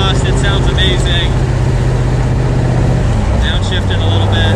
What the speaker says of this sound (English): I'm sure you guys can hear the exhaust